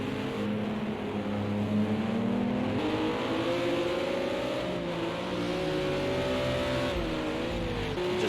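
A G55 GT4 race car in a racing video game drones continuously up close, its engine note rising and falling through gear changes as it laps the track, with no voices over it.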